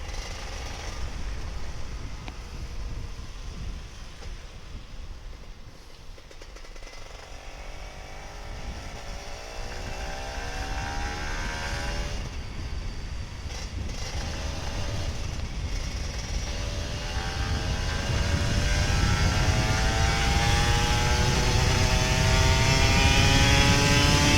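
Two-stroke Kawasaki Ninja RR 150 motorcycle engine revving and droning steadily, pitch sweeping up and down, growing louder toward the end with no talking over it.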